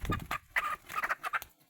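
Tame young chickens clucking nearby in a series of short, uneven calls with brief pauses between them, no one talking.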